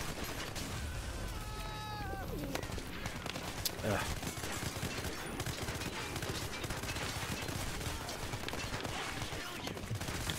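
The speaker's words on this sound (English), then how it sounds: "Alright, let's throw this grenade." Gunfire and explosive blasts from a grenade thrown in the shooter game Hatred, a dense, continuous barrage of shots and impacts with no clear single detonation standing apart.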